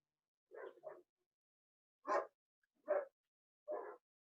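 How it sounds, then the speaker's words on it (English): Dogs barking outdoors at a distance, a few separate woofs spaced out over a few seconds against near silence. "If you heard some dogs barking, they're my dogs."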